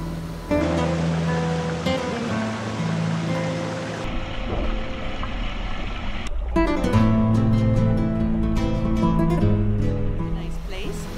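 Rushing water of the small Anamuya waterfalls in the mountains of the Dominican Republic, a steady broadband roar that swells after a few seconds, with a voice speaking over it and tonal sounds in the lower range.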